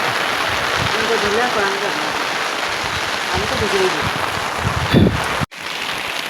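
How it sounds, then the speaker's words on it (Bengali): Steady rain pours down all around near a river, a dense hiss close by, with faint voices mixed in and a brief clatter near the end. "চারিদিকে দেখেন কি বৃষ্টি হচ্ছে"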